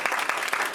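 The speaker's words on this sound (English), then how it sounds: "how about a round of applause for Lucretia?" Audience clapping at a fireside chat event, a moderately dense round of applause with distinct individual claps pulsing through, heard briefly and fairly close.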